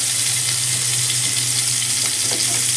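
Chicken keema balls fry slowly in hot oil, a steady close sizzle that holds evenly throughout with a few faint clicks as pieces are turned one by one; no voices.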